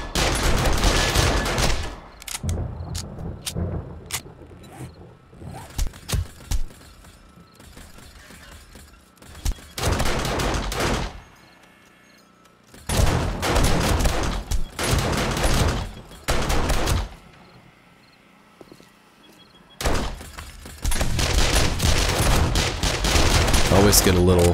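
Bursts of rapid automatic gunfire from the 7 Days To Die survival game during horde night, loud repeated volleys broken by short pauses, with brief single shots in between.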